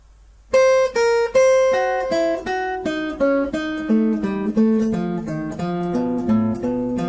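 An acoustic guitar picks a quick run of single notes in steady rhythm as a string exercise, climbing through the strings then coming back down, with no talking.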